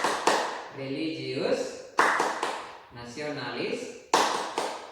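Children do the tepuk PPK clapping chant at school. A few sharp group claps land at spaced intervals between stretches of chanted, sung-out voices, close and fairly loud.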